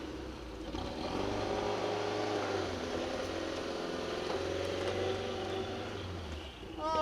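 A Toyota MR2 Turbo mid-engine car idling rough like a diesel, a steady low rumbling drone with uneven churning throughout, heard from nearby at moderate level.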